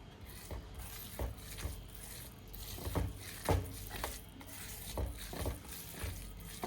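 Quiet, irregular soft squishing and patting as mashed bhorta made from pointed gourd peels is worked together with fried onion by hand, close up and faint, with no talking.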